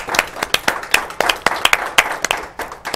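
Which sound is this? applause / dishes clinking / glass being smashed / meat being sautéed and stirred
applause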